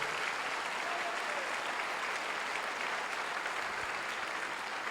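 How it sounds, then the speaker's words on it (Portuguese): A church congregation claps in applause, a dense, steady wash of hands filling the whole stretch at moderate level, with no speech breaking through. "Dá um aplauso a Jesus."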